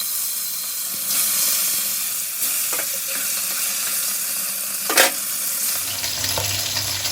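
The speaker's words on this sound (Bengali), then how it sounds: "তেলটা খুব ভালো করে গরম হলে তারপর আমি মাছগুলো ভেজে তুলে নেব" Bata fish fry in hot, smoking oil in a pan, giving a loud, steady close hiss and sizzle with a few sharp crackles and a utensil scrape partway through.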